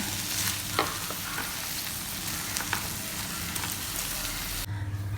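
Thick tamarind water poured into a hot pan sets off a steady, close frying hiss with a few soft utensil knocks, cutting off abruptly near the end.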